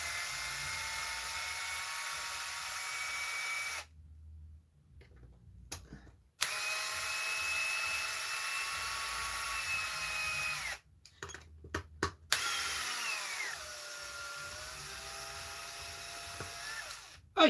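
A power tool whines steadily while unbolting screws, a high sustained drill-like tone broken by a few brief pauses and clicks, close and fairly quiet, with no talking.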